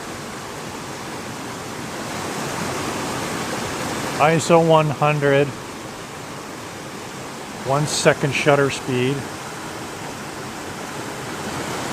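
A waterfall pours steadily in a constant broadband rush from start to finish, while a person speaks twice briefly over it at close range.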